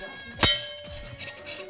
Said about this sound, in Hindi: घंटी बजा लेते हैं यहाँ पे